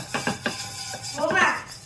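Oil is stirred in a pan while cooking batter for a home dish, a few soft scraping clinks of a utensil against metal, quiet and close, with someone talking over part of it.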